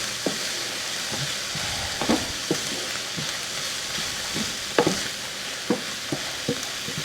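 Onions and mushrooms browning in a pan for Polish cabbage rolls give a steady low sizzle, broken by repeated clinks and scrapes of stirring at irregular intervals. No one speaks.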